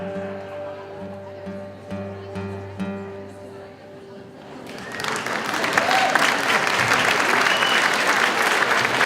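Audience applause breaking out after a live story song, starting after a stretch of sustained musical tones and swelling into loud, dense clapping that fills the room and holds steady to the end.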